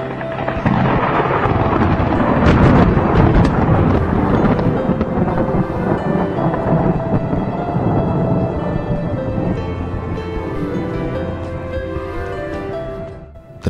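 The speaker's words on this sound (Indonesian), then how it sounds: "Saya menggunakan sound efek petir yang saya putar dari smartphone." A thunder sound effect played from a smartphone: rolling thunder rumbles loudly and continuously, a deep crackling roar that slowly fades away, with a slightly compressed, played-back quality.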